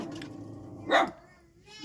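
A single short dog bark or yip sounds at middle distance over a low household hum, with faint voices murmuring around it.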